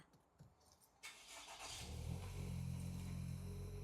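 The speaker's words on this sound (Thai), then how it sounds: "เดี๋ยวขออนุญาตสตาร์ทให้พี่พี่ดู ปุ่ม Engine Start ค่ะ" A 2020 Toyota Camry 2.0G starting by push button: a brief crank, then the engine catches and settles into a steady, close idle that grows louder and holds.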